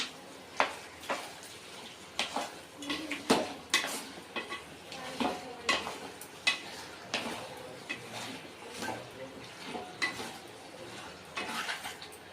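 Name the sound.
stirring chicken curry with turmeric in pot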